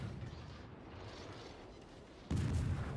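Naval guns roar in a warship battle game, the French cruiser Vauquelin firing fire-setting shells at the enemy Gneisenau: a steady low rumble of distant fire, then a sudden heavy salvo boom near the end that keeps booming.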